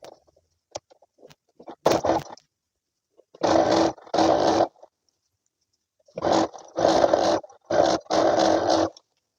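A sewing machine stitches lining to a coat in several short, loud motor runs separated by silent pauses, followed by a series of quicker bursts close by.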